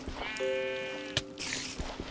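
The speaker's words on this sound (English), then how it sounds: "I'm taking these sheep for their wool." Sheep bleat in the Minecraft video game, one drawn-out wavering bleat standing out clearly, followed by brief clicks and soft game sounds.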